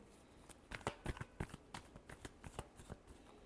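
Tarot cards being shuffled by hand, a quick run of about a dozen soft papery riffles and slaps, close and quiet, with no talking over them.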